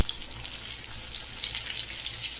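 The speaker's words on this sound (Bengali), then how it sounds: "আগে বেগুনগুলো ভেজে নেব।" Eggplant pieces frying in hot oil for doi begun, a close, even hiss of sizzling oil with soft bubbling that runs without pause.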